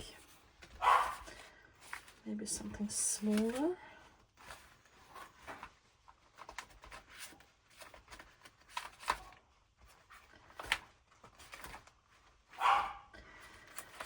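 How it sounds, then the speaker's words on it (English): Dog barking indoors at a home crafting table, a few brief yaps at around one second and again near the end, heard under quiet talk and paper-handling rustles. "Excuse the dog barking."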